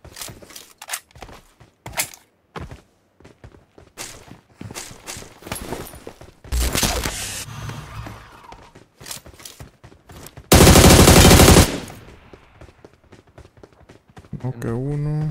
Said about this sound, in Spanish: Escucho tiros por allá.